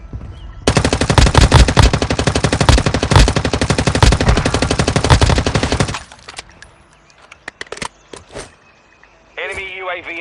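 Rapid automatic gunfire from the mobile shooter Warzone Mobile rattles loud and close in one unbroken burst for about five seconds, then gives way to sparse clicks and scattered shots before a brief voice-like tone at the end.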